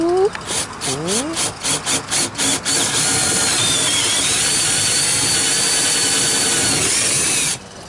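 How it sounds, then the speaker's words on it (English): A power drill whines up in several short bursts, then runs continuously, grinding into wood up close for a hydraulic steering installation before stopping abruptly. "drilling holes."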